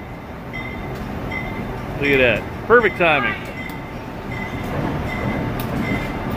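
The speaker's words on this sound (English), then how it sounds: "Got a train coming right now." A train passes near the Appalachian Trail with a steady rumble and a burst of loud, wavering tonal calls in the middle, while someone talks over it.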